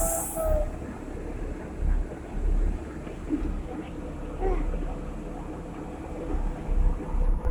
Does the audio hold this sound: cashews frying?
no